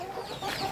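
Backyard chickens on a small home farm cluck briefly as they're fed rice and pellets; a short, fairly soft burst of close clucking over light background noise.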